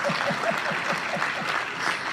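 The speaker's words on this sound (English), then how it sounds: "you must give me a very nice round of applause." An audience at a renewable energy event gives the speaker a round of applause, a steady wash of many hands clapping at moderate loudness, with a rhythmic low thumping running through it.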